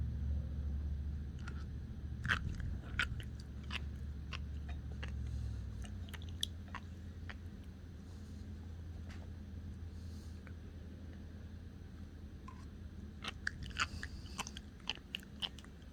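Close crunching bites and chewing of sea grapes, sharp crisp crackles spread irregularly over a low background rumble, with bursts of crunches clustering near the end.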